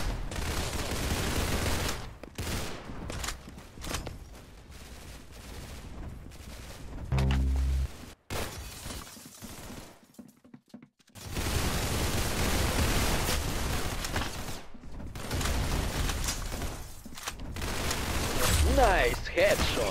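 Dense bursts of rapid gunfire from the video game Arsenal, loud continuous volleys broken by a short quiet gap midway, with a voice talking over the shooting.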